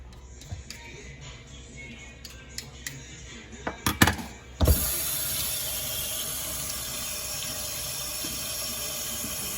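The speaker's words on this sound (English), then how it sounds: "Wash my potatoes." Tap water runs steadily into a sink while potatoes are washed for a breakfast skillet, starting abruptly midway after a few light kitchen clicks and knocks, then a constant close hiss.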